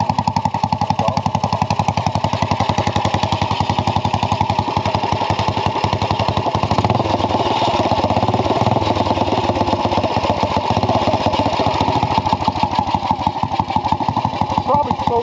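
An old Royal Enfield Bullet motorcycle runs for the first time in 15 years, a steady, close and loud thumping single-cylinder beat that holds for the whole stretch. Voices can be heard faintly under the engine.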